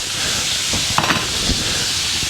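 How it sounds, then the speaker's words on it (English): Meatballs frying in bacon grease, a loud, continuous hissing sizzle up close with a few brief pops and spatters. "So we're just going to let them fry a couple minutes."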